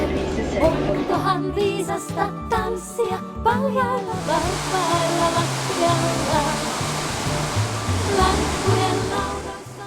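Steady broadband rushing of a waterfall in Norway, heard from a stopped train, loud and continuous, with a faint murmur of voices in the first few seconds.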